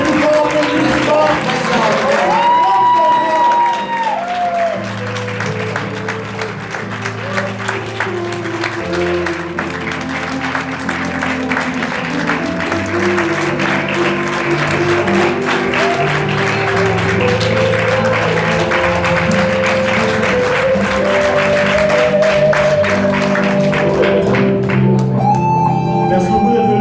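A congregation at a morning church service keeps up rhythmic clapping under music and singing for a long stretch, with speech mixed in and the clapping growing more prominent near the end.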